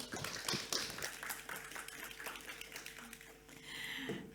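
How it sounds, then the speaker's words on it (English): Audience applause breaks out at a panel event, a dense, sustained patter of clapping from a crowd, loud and continuous throughout with scattered voices mixed in. "Please give a huge round of applause for Jill and our panel."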